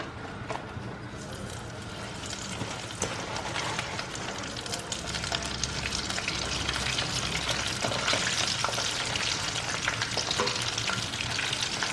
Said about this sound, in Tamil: இப்போ அதாவது செகண்ட் டைம் ஃப்ரை பண்ணுறேன்.